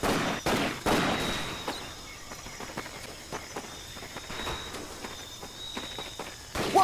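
Gunfire in Medal of Honor Pacific Assault, a string of sharp distant shots and crackling bursts scattered irregularly over steady background ambience, some louder volleys near the start.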